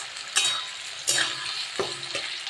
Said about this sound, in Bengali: আলুটা ভাজতে বসিয়ে আমি একটু নুন দিয়ে দিয়েছি,